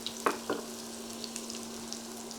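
Frozen potatoes fry in coated oil, a soft continuous sizzle with a couple of brief scraping stirs near the start and a faint steady hum underneath.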